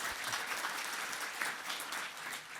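An audience claps steadily and evenly through the whole moment at a round-table discussion on French multi-year energy policy, a dense, moderately loud patter with no voices.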